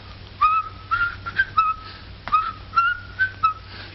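A person whistles in imitation of a steamboat whistle, a series of short bright rising-and-holding tones in a lilting rhythm, close and clear with no talking.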